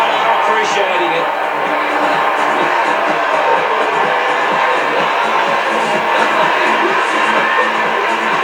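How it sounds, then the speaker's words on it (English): A stadium crowd roars and cheers continuously in AFL Evolution 2 during an SANFL Grand Final between North Adelaide and South Adelaide, a loud sustained wash of noise with a voice talking over it. "the crowd are appreciating it"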